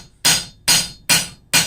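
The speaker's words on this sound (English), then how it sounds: "A very lightweight hammer is enough to do the job, to do the trick." A very lightweight hammer strikes steel four times at an even, brisk pace while forging facets on a daffodil sculpture stem, each blow loud, sharp and close with a brief ring.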